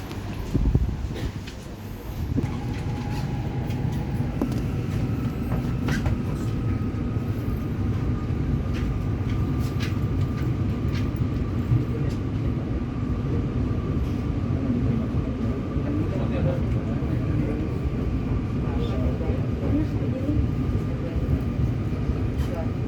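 A CRRC SFC120 KRL commuter electric train pulls away from Bekasi station, a steady low rumble and rolling rail noise sustained throughout with faint high whines, heard from inside the car.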